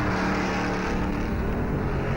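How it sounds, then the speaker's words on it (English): A race car at the 1957 Darlington Southern 500 roars loudly past the pits, a dense, continuous engine blare filling the whole moment without any voices. "He roars past his pit in 2nd place."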